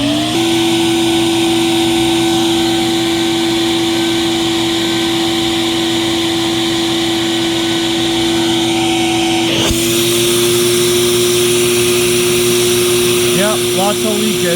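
A Black and Decker CA1440 handheld vacuum runs steadily throughout an airflow test, a loud close motor whine with a constant rushing hum, its pitch stepping slightly higher partway through as the airflow changes.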